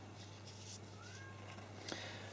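Faint, distant meowing from a cat shut outside a door, one thin rising cry muffled by the wall, over a constant low hum and a soft clatter nearby.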